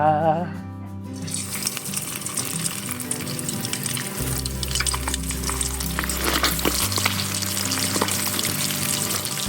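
Sun-dried snakeskin gourami fish fries in hot oil with a loud, steady sizzle and crackle, close up, preceded by a brief musical jingle and with no talking.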